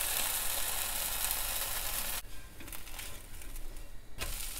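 A dosa crisping on a hot pan gives a soft, steady sizzle and hiss, fairly quiet, with a short break midway and no talk.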